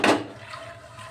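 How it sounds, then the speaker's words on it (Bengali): Water splashes into a pot of chickpeas being cooked for ghugni, a brief loud gush at the start that settles into a faint trickle and low room hum. "দিয়ে দেবো জল।"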